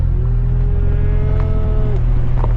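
A cow moos loudly and close by, one long drawn-out low call set against a steady low rumble like an idling vehicle, with no talking.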